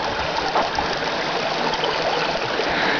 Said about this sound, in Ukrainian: От маємо ще один каскад невеликий